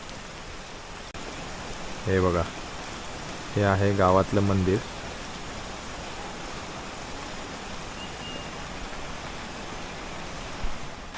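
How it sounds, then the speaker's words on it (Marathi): Heavy monsoon rain pours steadily over a Konkan village near its temple, a dense, even hiss filling the whole stretch while someone speaks briefly over it. "फारच जोरात पाऊस पडतोय"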